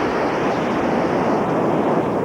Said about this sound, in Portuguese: É um cenário exuberante, com ondas perfeitas para a prática do surf.